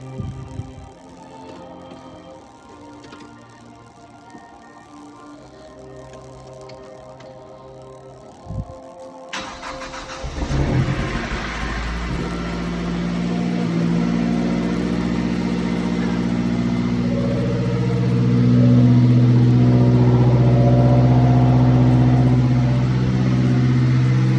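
Mazdaspeed 3 engine after a serpentine belt replacement, cranking and catching after a quiet stretch, then settling into a loud, close idle that rises as the revs climb and hold high.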